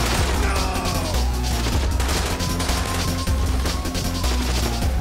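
Rapid, continuous gunfire from a GTA 5 police shootout on a military patrol, dense overlapping bursts and loud booms running without pause for the whole stretch, with faint voices underneath.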